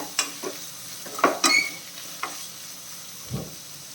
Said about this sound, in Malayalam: നമ്മുടെ സവാള നല്ല രീതിയിൽ വഴണ്ടിട്ടുണ്ട്